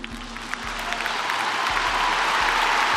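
A crowd breaks into sustained applause for Erika Kirk after she speaks of forgiving the young man. The clapping is dense and loud and swells steadily over a few seconds.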